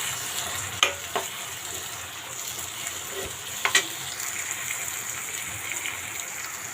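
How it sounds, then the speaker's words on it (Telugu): Onions and tomato pieces frying in a pan for a village-style taro curry, a steady low sizzle under a few sharp clicks from a stirring spoon. "ఇప్పుడు టమాటా ముక్కలు కూడా వేసేసుకున్నాము. ఇవి కూడా వేసేసి బాగా మగ్గించుకుందాము."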